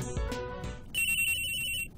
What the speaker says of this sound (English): Oh! The Deus Ex Machina phone!